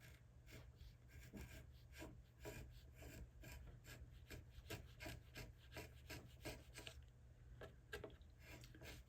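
A long chisel pares spruce-like brace wood on a guitar top, a quick regular series of close, dry scraping strokes, quiet and alone with no speech.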